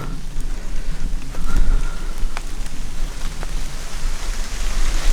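Heavy rain falls in big drops through a forest, a dense, steady patter on leaves and ground with occasional louder drips, close and continuous, with no voices.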